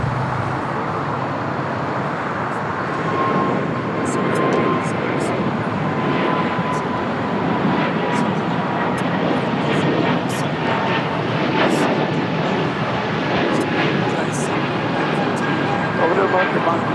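A Breeze Airways airliner passes with a steady, loud broadband roar that swells and holds for the whole stretch, set against the background noise of a busy airport with no talk.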